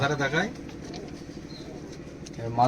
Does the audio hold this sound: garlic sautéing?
no